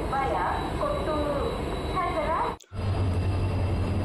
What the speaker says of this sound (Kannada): ನಮ್ಮ ಟ್ರೈನ್ ಹೊರಟಿದೆ ಹೊಸಪೇಟೆ ಜಂಕ್ಷನಿಂದ